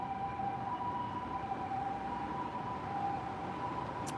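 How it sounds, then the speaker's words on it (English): An ambulance siren on a Roppongi street in Tokyo wails steadily in the middle distance, its tone holding and wavering over a constant rumble of city traffic. "No, this is not the police. I think it's an ambulance."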